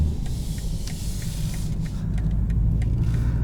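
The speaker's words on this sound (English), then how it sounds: "This 2-liter 4-cylinder provides a ton of power." A 2019 BMW 330i xDrive with a 2-liter four-cylinder engine drives along, giving a steady, loud low rumble of engine and road noise with a broadband hiss throughout.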